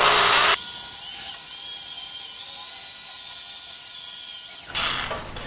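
A drill bores through metal on a Harbor Freight press setup, giving a loud, sustained high-pitched whine and grind that holds steady for about four seconds before easing off as the drill bit starts slipping.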